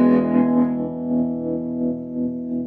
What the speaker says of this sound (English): So there's your echo, reverb, tremolo.